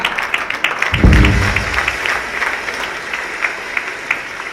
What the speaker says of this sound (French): ça mérite une fois de plus des applaudissements, n'est-ce pas?